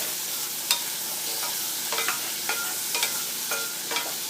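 Bitter gourd frying in a pan, a steady broadband sizzle with repeated scraping stir strokes about every half second, close and clear with no voices.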